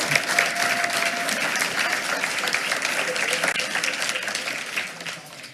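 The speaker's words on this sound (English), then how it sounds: "Let's give him another round of applause." Another round of applause for a student at a school board meeting: a room full of people clapping steadily for several seconds, moderately distant, with scattered murmurs and a few voices mixed in.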